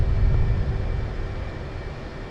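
Twin jet engines of an F/A-18C Hornet in DCS idle and rumble steadily while lining up on the runway, a low continuous roar with a faint whine, no talk.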